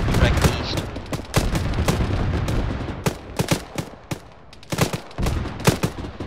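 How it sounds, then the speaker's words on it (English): Gunfire from the low ground in an Arma combat video game, dense bursts of rapid rifle and machine-gun shots with booming reports, loud and continuous, under occasional radio-style voices. "Coming under fire from the low ground direct east."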